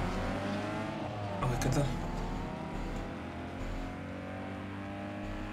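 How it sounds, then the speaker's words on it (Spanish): Car engine droning steadily in Need for Speed Underground 2 on PS2, a continuous low hum with a brief rising rev or tire noise partway through, under a man's short spoken remark. "cuando estamos con el coche, está muy alto el sonido del coche"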